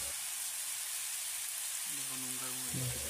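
Garlic, ginger and salt fry in a hot pan for kham aloo, a soft steady sizzle that rises slightly near the end as the mixture is stirred, with a faint hum partway through.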